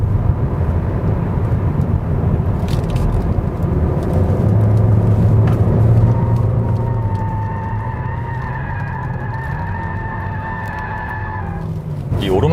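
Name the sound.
wind noise in Hyundai Sonata 1.6 Turbo at high speed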